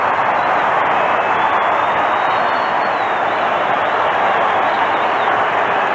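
A large Australian football crowd in a stadium applauds and cheers after the final siren of a 1993 Adelaide Crows versus Fitzroy Lions match, a loud, dense, continuous roar of clapping that holds steady throughout.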